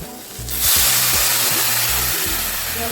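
Water is poured into a pan of frying potatoes and lentils. A burst of loud sizzling hiss erupts after a brief quieter moment and stays strong and steady to the end, with faint rhythmic clatter underneath.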